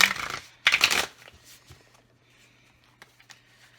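Tarot cards shuffled in two quick riffling bursts near the start, close and fairly loud, followed by softer handling and light taps with a low steady hum underneath.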